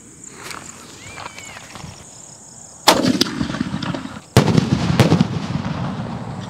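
Diwali sky-shot firecrackers burst in an open ground, two sharp loud cracks a second or so apart followed by crackling fallout over a faint outdoor background.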